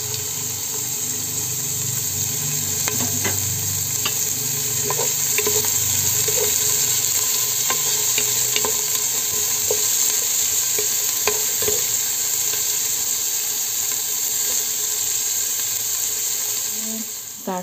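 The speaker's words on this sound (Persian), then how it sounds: "پیازا رو داخل قابلمه میریزیم و روغنم بهش اضافه میکنیم و تفتشون میدیم" Onions sizzle steadily in hot oil in a pot for Isfahan-style meatballs, a continuous crackling fry with occasional clinks and stirring scrapes, close and fairly loud.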